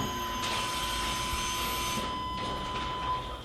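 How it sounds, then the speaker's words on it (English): Fuel pump of a 1999 Chevy Suburban 1500 running with the key on, a steady whirring, hissing hum that shifts slightly partway through, continuous and fairly faint with no talking. "have another person turn the key to the on position. And when you do, you should hear something like this"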